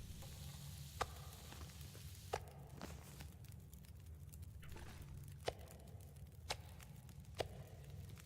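Meat sizzling as it cooks over a campfire in The Long Dark, a faint steady frying hiss with occasional sharp crackles and ticks, no talking.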